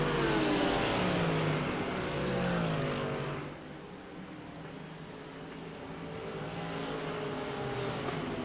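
Porsche and BMW GT3 race cars circling Road Atlanta in a racing game, engines droning and shifting pitch as they accelerate and pass, loud at first and then easing to a steadier hum.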